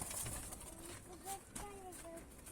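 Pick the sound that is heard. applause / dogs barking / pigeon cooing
pigeon cooing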